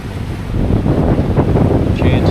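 Ocean surf pounding on Beverage Reef heard from a boat at sea, a loud continuous roar of waves mixed with heavy wind buffeting the microphone, with no talk.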